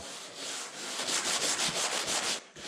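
A sanding block rubs back and forth over gray primer on a car panel in quick, even strokes, making a close, dry scratching hiss with no voices.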